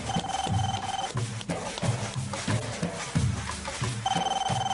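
A telephone rings in a home in a Turkish film, with a bright repeating ring over a steady, busy background, fairly loud and near, with bursts and short pauses through the clip.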